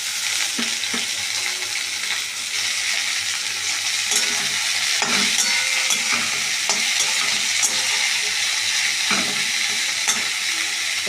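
Red water spinach greens fry with onion and garlic in a pan, making a loud, continuous close sizzle with scattered pops and occasional stirring clicks, with no voices.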